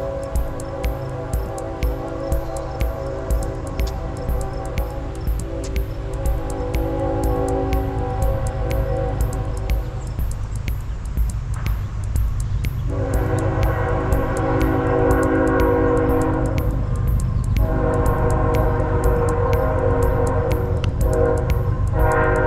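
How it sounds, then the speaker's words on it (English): Train rolling past close by at a creek, with a steady low rumble, rhythmic wheel clicks and horn-like sustained tones that swell and ebb over the whole stretch, loud and continuous with no talking. "Just as that train is passing by"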